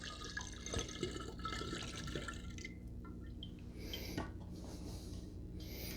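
Wheated cask-strength bourbon whiskey pouring from a 750 ml bottle into a vessel, a steady close liquid trickle and splash with a few drips, continuous over several seconds with no talking.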